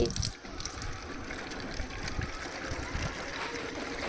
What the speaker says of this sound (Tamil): இப்போ எல்லா செடிக்கும் ஊற்று